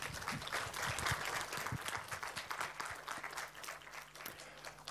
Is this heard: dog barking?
no